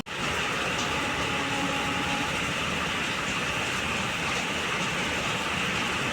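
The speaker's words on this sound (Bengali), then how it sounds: "বৃষ্টিটা দেখো কিরম মুসুলধারে হচ্ছে," Heavy monsoon downpour pounding down and flooding the road, a loud, steady, unbroken roar of dense rain that stays constant throughout.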